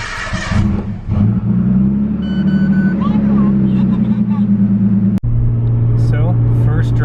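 A Nissan Skyline R32 fitted with Cusco parts warms up, its engine holding a steady, loud idle hum with a few rises in revs and one brief cutout near the end.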